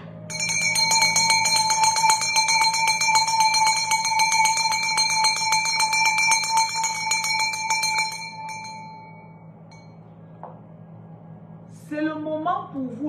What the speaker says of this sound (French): Je vais sonner la cloche.